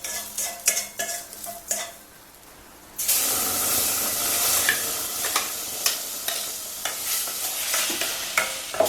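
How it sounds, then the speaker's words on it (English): Ground masala paste is stirred in a pan for cooking salmon, first as sparse scraping clicks, then a sudden loud sizzling hiss that carries on under repeated spatula scrapes. "And again this paste has to be stirred for some time."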